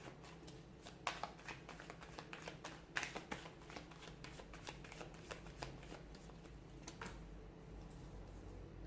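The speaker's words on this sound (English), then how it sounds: "give the cards a shuffle" A deck of tarot cards is shuffled by hand, a close, quiet run of riffling flutters and soft slaps in irregular bursts that fade near the end.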